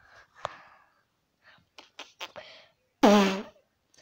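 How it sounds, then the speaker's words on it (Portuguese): A fart bursts out loud and close near the end, a short buzzy blast after scattered quieter sounds. "Você não quer saber de parar de peidar, né?"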